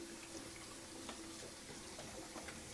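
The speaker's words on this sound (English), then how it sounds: "Now what I'm going to do is I'm going to rinse these because I didn't do that before we cut them." Tap water running over vegetables being rinsed in a kitchen sink, a faint steady splashing stream with no talk.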